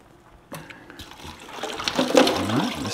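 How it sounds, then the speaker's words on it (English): Water splashes and trickles as it drains out of butchered meat rabbits in a container, starting with a sudden pour and building into a louder, close, gurgling flow with no talking over it. "let's drain all the water out."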